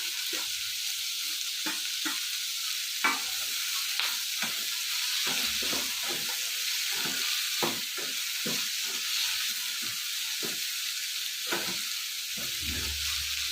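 Coriander leaves go into frying radish chutney in a pan, giving a steady sizzle with repeated scraping and clinking stirs at an irregular rhythm, close and fairly quiet.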